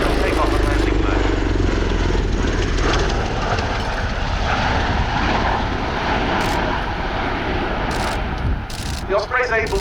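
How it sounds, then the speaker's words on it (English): A V-22 Osprey tiltrotor at the RIAT airshow slows and converts to vertical takeoff and landing mode, its loud, broadband rotor and engine roar dominating the whole stretch and shifting in texture near the end. "We'll shortly see the aircraft beginning to decelerate and convert to VTOL, vertical takeoff and landing mode."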